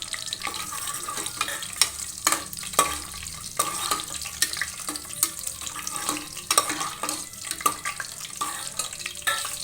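A fenugreek mixture fries in a pan for fenugreek bath, giving a continuous close sizzle with frequent stirring scrapes and light utensil clicks throughout, and no one speaking.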